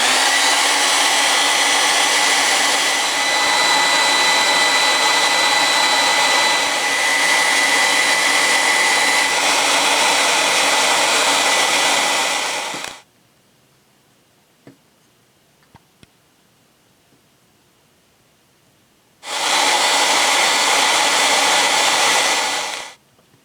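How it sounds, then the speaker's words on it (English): A hair dryer heating decals on a robot blows loudly and steadily, cuts off for several seconds of near silence with faint clicks, then roars back on. "So I'm going to start off with the hairdryer method."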